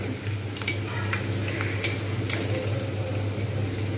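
Okra pakoras coated in cornflour and rice flour batter frying in hot oil, a steady close sizzle and crackle with occasional sharper pops, no talking.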